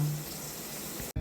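Water is poured out outdoors at a house construction site, a brief soft splashing stream that stops abruptly near the end.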